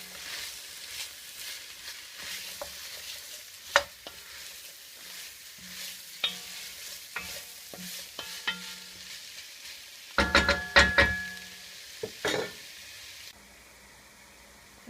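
Extra virgin olive oil sizzles faintly in a soup pot while a utensil stirs, soft scrapes and taps over low hiss, with a louder clattering burst of stirring before it goes quiet.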